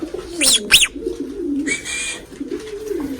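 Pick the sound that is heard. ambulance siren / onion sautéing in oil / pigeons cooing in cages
pigeons cooing in cages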